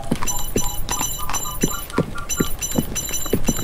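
Hooves clip-clop at a steady walking pace as a horse is ridden in the video game 1428: Shadows Over Silesia, moderately loud against a busy ambient background with no talking.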